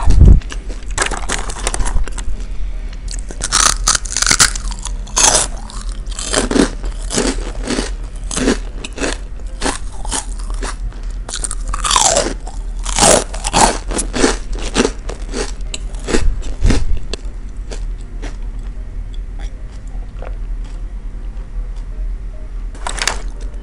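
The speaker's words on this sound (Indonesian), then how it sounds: "ini rengginang terenak yang pernah aku cobain. Gurih, renyah, asin-asin gitu, enak banget" Crunchy fried rengginang rice crackers chewed close to the mic during a mukbang of Betawi snacks, with repeated loud crisp bites and crackling crunches throughout.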